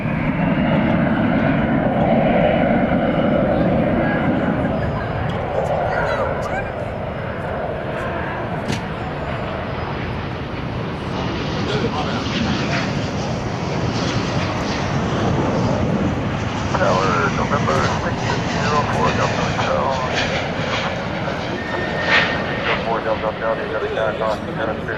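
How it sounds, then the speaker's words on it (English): An American Airlines Boeing 777-200ER arriving from Athens at DFW Airport at night, its jet engines a loud broad roar that rises and slowly fades over the whole stretch, with people talking underneath. "We're about to see the American Airlines flight from Athens, Greece coming in."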